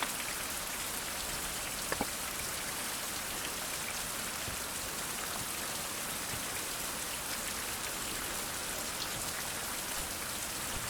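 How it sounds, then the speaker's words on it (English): Rain falls in the survival game Survival: Fountain of Youth as a soft, steady patter and hiss. It keeps a constant level, with a brief faint click near the start. "And now it's raining."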